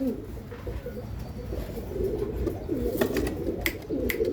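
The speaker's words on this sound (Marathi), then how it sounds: "एकदम सुपर क्वालिटीचे कबूतर देतो मित्रांनो आपण." Pigeons kept in pairs for sale coo softly and repeatedly at close range, low throaty calls overlapping in a steady rhythm with a few faint clicks and rustles.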